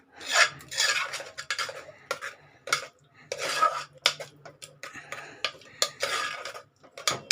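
Cooked moong dal is mashed in a pot over a low flame for payasam: irregular metallic scraping, rubbing and clinks of a utensil against the pot, coming in uneven bursts up close with no voices.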